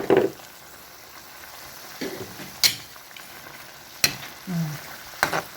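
White onion frying in a pan for chicken liver adobo, a steady soft sizzle interrupted by several sharp clanks and stirring scrapes of a utensil against the pan, close and alone.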